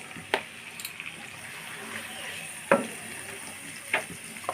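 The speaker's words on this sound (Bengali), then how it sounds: "সবজিগুলো দিয়ে আমি ভালোভাবে নেড়ে চেড়ে ওটা ভাজা ভাজা করে নেবো" Vegetables for vegetable pulao being stirred and fried in a pan, a soft steady sizzle broken by a few sharp scrapes and clinks of a spatula.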